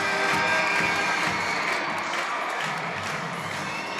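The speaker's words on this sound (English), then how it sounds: "Just listen to this crowd. Absolutely deafening" A raucous crowd roars nonstop inside an East Lansing arena during a women's college basketball game between Michigan and Michigan State, a dense, loud wall of cheering and shouting throughout.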